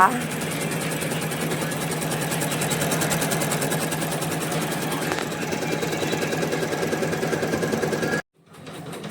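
A sewing machine stitches a kameez collar with a continuous, fast, rhythmic mechanical clatter for about eight seconds, then stops abruptly, leaving a faint quiet room.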